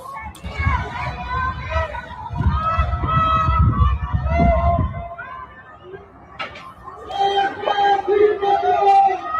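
A crowd in Iran chants and shouts at night, with fireworks and celebrations elsewhere; rough, distant-sounding massed voices rise and fall continuously, with a low rumble early on.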